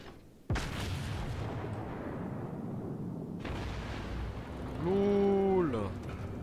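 Two heavy booming warship cannon blasts from the video game World of Warships, from the USS South Carolina, each followed by a long rumbling roar, then a rising mechanical whine.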